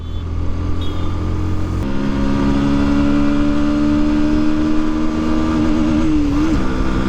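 A Bajaj Pulsar NS160 motorcycle engine revs up close, climbing steadily in pitch toward the red line and holding there with a loud, continuous whine.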